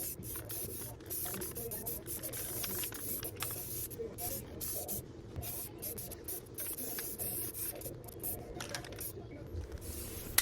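Lime green paint hisses from an aerosol spray can in a series of short and sustained bursts, fairly quiet and close, with brief pauses between passes over a PVC mower basket.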